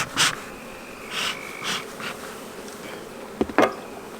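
Honeybees buzz around a beehive during a spring inspection of a hungry package colony. A few loud buzzing passes fly close by in short bursts over a quiet background, with a couple of sharp knocks near the end.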